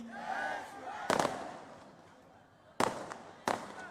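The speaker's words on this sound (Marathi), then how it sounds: "अरे बाबा फटाके तेवीस तारखेसाठी ठेवा" Three sharp firecracker bangs go off at a distance during an election campaign rally, one early and two close together near the end, after a shouting voice.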